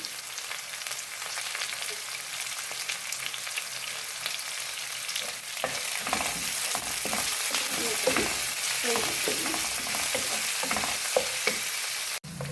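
Onion and green chilli frying in oil with mustard seeds, cumin, urad and chana dal and curry leaves for mango chitranna: a steady close sizzle throughout, with scraping and clattering stirring that grows busier after the midpoint.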